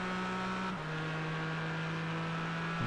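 Porsche GT4 race cars in a sim racing game at Silverstone, their engines droning steadily at close range with a sustained tone that drops in pitch partway through, as if passing by, with no talk.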